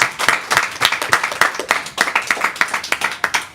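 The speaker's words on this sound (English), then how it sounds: "give yourselves a big round of applause" Audience clapping at a pride potluck gathering, with close, distinct hand claps in a fairly quick, uneven rhythm and a few sharp individual slaps standing out.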